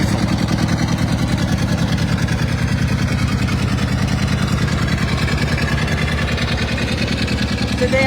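Diesel engine of a John Deere 830 tractor in a classic tractor parade, a steady loud low throb running the whole time with no change in pace.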